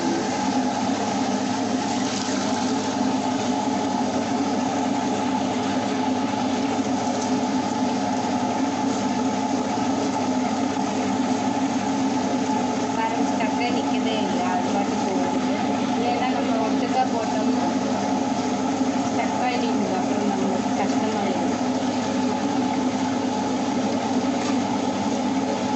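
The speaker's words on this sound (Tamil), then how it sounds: "அளவாக தண்ணி ஊற்றி அரைச்சிடணும்." A wet grinder churns soaked rice into idli batter, giving a steady, loud droning hum with a watery churning texture that runs without a break throughout.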